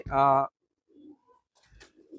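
A male pigeon gives one loud, throaty coo up close, followed by soft scattered rustles and faint murmurs.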